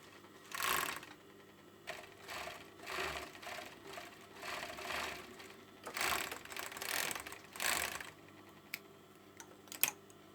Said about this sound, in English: So you can overlock, sorry, I've overlocked those now